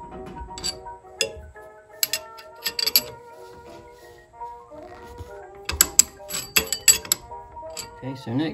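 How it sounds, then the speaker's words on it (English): A wrench tightens the bolts on a refurbished front leaf spring of a Model A Ford, giving irregular metallic ratcheting clicks and clanks in uneven bursts, close by with some quiet gaps. "I'm going to tighten it up, making sure the top is exactly square"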